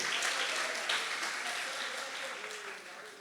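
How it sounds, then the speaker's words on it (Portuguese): A church congregation claps in broad, sustained applause that slowly fades and thins out toward the end. "Pode aplaudir ao Senhor."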